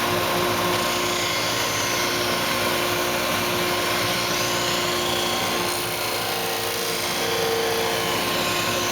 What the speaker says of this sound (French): Nous allons commencer par la ponceuse rotative.